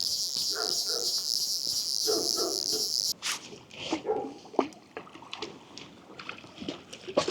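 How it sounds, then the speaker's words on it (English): A steady high insect drone gives way to several dogs barking sporadically at moderate distance near a fishing resort in winter, sharp irregular barks with some yelps. "These dogs are mad barking."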